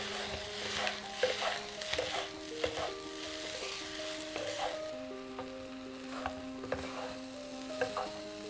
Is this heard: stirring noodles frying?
yes